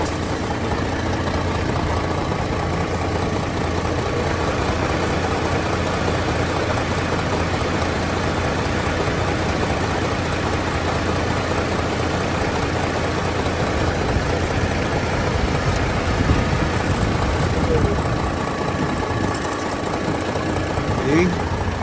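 A 2010 Isuzu Giga 12-wheeler wing van with a 6UZ1 diesel engine idles during an inspection, a steady loud low rumble with a faint knocking texture throughout.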